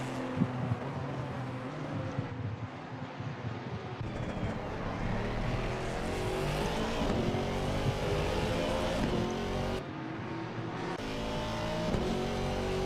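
Mercedes race car engine in the sim racing game Assetto Corsa Competizione at Suzuka, a steady loud roar with rising and falling revs and gear changes, other cars faintly mixed in.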